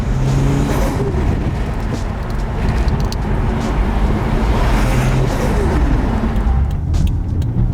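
Toyota Chaser JZX100 with a four-speed gearbox accelerating up through the gears, its engine loud and close throughout with rising and falling pitch at each shift, no talk.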